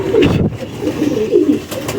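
A Teddy pigeon with the original mehron markings coos up close, repeated low throaty rolling calls with a brief pause in between.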